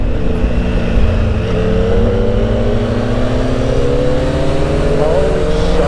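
A 2009 Yamaha R1 motorcycle with a quick shifter is heard from close by as a loud, sustained engine drone whose pitch climbs steadily through acceleration, with wind noise throughout.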